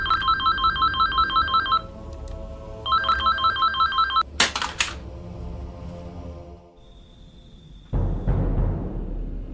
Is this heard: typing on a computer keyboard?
no